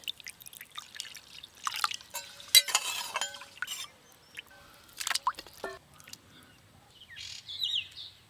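Water is poured over pieces of bhetki fish in salt in a kitchen, giving splashy, trickling bursts with pauses between pours, close and fairly loud with no talking.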